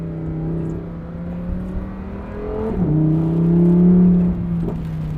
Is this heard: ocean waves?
no